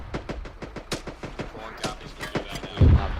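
Gunfire rattles out during a military convoy field exercise: rapid bursts of sharp cracks, some near and some more distant, close with a heavy thump.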